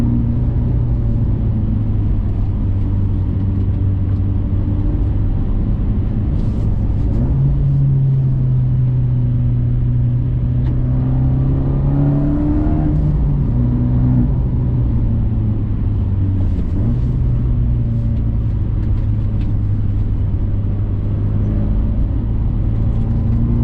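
A 2020 Fiat 124 Spider Abarth is pushed hard through corners, its engine droning and rising and falling in pitch with each throttle change, a steady close-up cabin rumble with no talk.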